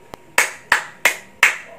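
Hand clapping, four sharp, evenly spaced claps close up after a faint tap, with no talking.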